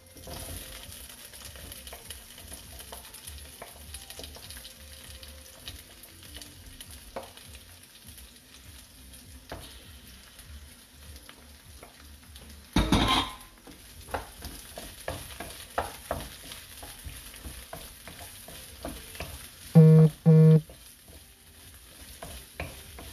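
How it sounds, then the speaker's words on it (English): Onion and pepper being stirred and sautéed in a hot pan, a steady low sizzle with scattered scraping stir sounds, one sharp knock partway through and a short burst of clattering near the end. "Now the next is the onion and pepper. Quickly sauté them as well."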